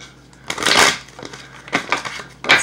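Tarot cards being shuffled by hand come through as three rough, papery bursts of riffling and rustling, fairly close and separated by short pauses.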